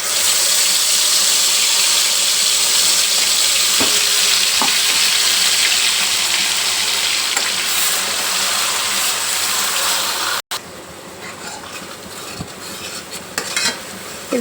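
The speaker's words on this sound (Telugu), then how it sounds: "ఇది మంచిగా నూనెలో వేగనియాలి" Capsicum masala fries in oil with a loud, continuous sizzle and occasional stirring scrapes, quieting suddenly partway through before sizzling more softly with light clatter.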